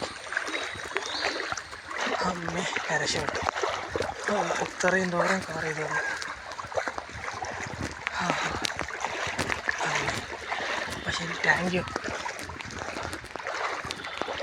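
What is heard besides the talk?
wading through a flooded stream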